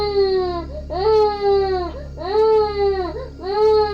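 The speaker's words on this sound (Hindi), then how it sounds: "मेरे नाना को किसी बच्चे की रोने की आवाज़ सुनाई दी" Repeated child crying in a horror story, with three long wailing sobs rising and falling over a steady low hum, loud and close with short breaths between cries.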